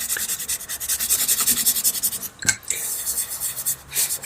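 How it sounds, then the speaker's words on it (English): Pastel pencil being rubbed to blend a background on a mountain lion portrait, soft rhythmic scratchy rubbing strokes close up, pausing briefly partway before resuming, with no clear talking. "Now when you rub this, you don't rub it quite so much. You just blend it into."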